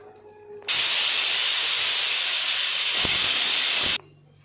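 A loud, continuous hiss of steam rushing from a pressure cooker whistle while cooking palak biryani, starting abruptly and cutting off sharply after about three seconds.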